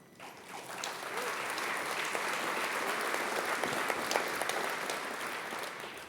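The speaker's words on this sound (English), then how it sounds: "Thank you for your applause." Steady audience applause during a county mayor's State of the County address, an even wash of many hands clapping at moderate distance, rising quickly and holding through the end.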